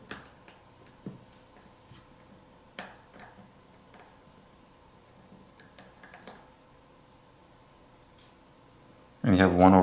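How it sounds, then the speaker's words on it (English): Small screwdriver work on a 2017 Razer gaming smartphone's main board, removing black Phillips screws: sparse faint ticks and clicks over quiet room tone, ending in a brief loud burst. "Now you have two black Phillips screws on the main board you're going to have to remove."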